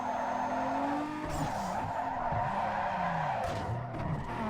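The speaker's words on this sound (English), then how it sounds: "Regular brakes on full, E-brakes on full, and you can't arrest the drift." Tires squeal in a long continuous drift skid from a car in Need for Speed Underground 2, the wavering screech held steady with engine noise beneath, loud and close, without talk.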